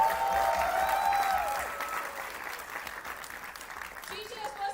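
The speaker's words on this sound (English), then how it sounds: "a huge round of applause for him." Audience applause for a student performer at a university induction program, a broad wash of clapping with crowd noise and a voice over it early on, fading somewhat and continuing quietly to the end.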